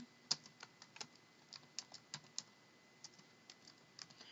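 Typing on a computer keyboard makes soft, irregular clicks and taps at close range, with uneven pauses between quick bursts of keystrokes and no talking.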